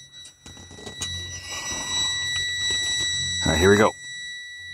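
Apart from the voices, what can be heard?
truck low-air warning buzzer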